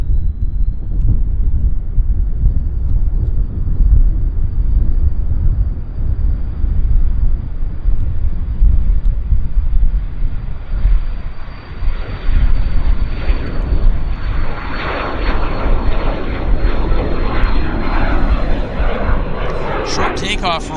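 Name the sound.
business jet taxiing and starting its takeoff roll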